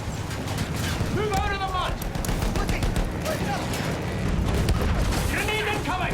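Machine-gun fire and booming blasts in a World War combat video game, a dense loud barrage under shouted voices throughout.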